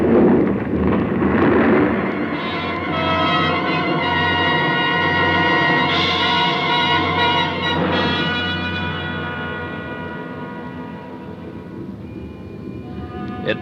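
A dramatized avalanche of snow and ice roars down a mountain ridge toward a valley, a sustained deep rumbling mass that swells early, holds heavy and dense, then slowly fades as it recedes into the distance.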